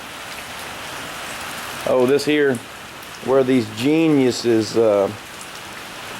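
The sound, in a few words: rain falling on a boat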